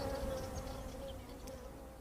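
Steady insect buzzing with a low droning hum, continuous and fairly faint, like bees hovering nearby.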